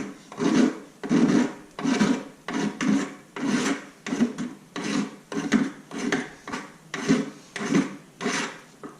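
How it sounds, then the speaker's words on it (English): A chalked metal file rasps across a sterling silver ring in steady, evenly spaced strokes, about a dozen close, loud scrapes in a regular rhythm with no talking. "So we're going to file that off. We'll file and sand it both."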